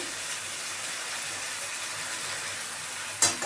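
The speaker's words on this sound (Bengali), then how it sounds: "চানাটাকে ভালো করে ভাজা হবে।" Chickpeas fry with spices in a pan, giving a steady, close sizzle throughout with a brief louder scrape or clatter near the end.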